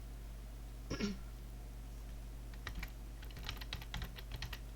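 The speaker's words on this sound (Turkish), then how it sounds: "Rastgele yazıyorum." Keys tapped on a computer keyboard while filling in an online interactive worksheet, a few scattered light clicks followed by a short burst of faint typing, with a quiet hum underneath.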